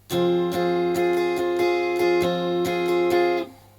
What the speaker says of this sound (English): the strumming pattern I would suggest for this song sounds like this